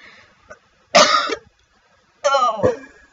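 Two sharp coughs a second apart, close and loud, with a small throat sound just before and quiet between them.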